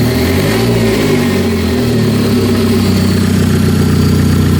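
A freshly built Hyundai Genesis Coupe engine with a turbo runs after its first start-up, giving a loud, close, continuous engine roar that wavers slightly in pitch, with no talking.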